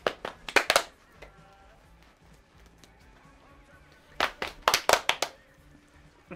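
Hands clapping in bursts during a drinking game among friends, a short flurry at the start and another cluster of sharp claps near the end, close and loud, with quiet room noise between.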